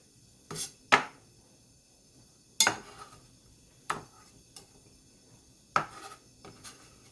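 Green onions being chopped with a knife on a board, about six or seven separate sharp chops spaced irregularly with quiet pauses between, close and clear.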